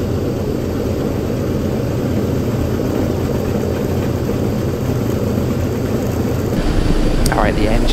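The four 3,500-horsepower piston engines of a B-29 Superfortress run together as a steady, dense, loud drone heard close by, unchanging over several seconds.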